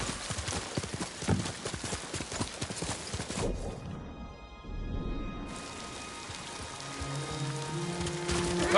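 Hoofbeats of Kage, a horse in the Ghost of Tsushima video game, galloping in a steady clip-clop rhythm with rain falling around it; the hooves drop out briefly midway, then resume against rain and a low musical tone.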